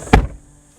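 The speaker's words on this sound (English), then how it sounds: "the door sounds and feels heavy" Door of a 2022 Peugeot 5008 swung shut, a single close, loud, heavy thunk with a deep body that fades quickly into quiet, with no talk.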